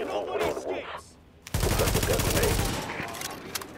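Rapid gunfire from an automatic weapon in The Division, a dense burst of loud shots starting abruptly after a quieter stretch and continuing with little pause.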